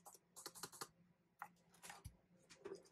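Quiet clicking of keys being typed on an Alienware 510K mechanical keyboard, a quick irregular patter of soft taps in short bursts, close and alone.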